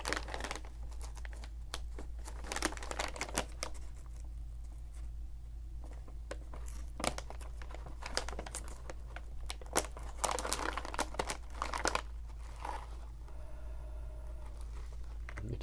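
Crisp crinkling of a resealable seaweed snack pouch, irregular bursts of plastic crackle and rustle close up, quiet between handlings, with no voice.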